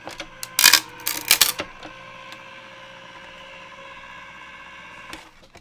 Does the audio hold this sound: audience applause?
no